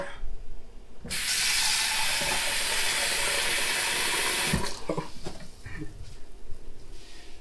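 Water pours steadily for a few seconds with a bright, rushing hiss, then stops, leaving scattered clinks and small handling noises nearby.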